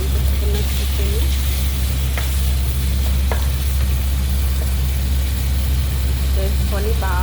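Chicken frying with onions in a pan, a constant loud sizzle over a heavy low hum, with a few brief tonal chirps and a voice speaking intermittently.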